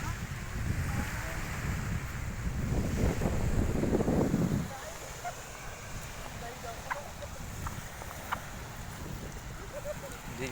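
Sea waves wash in at a beach under buffeting wind, a heavy rumbling gust for the first few seconds easing to a steadier surf hiss, with voices faintly audible.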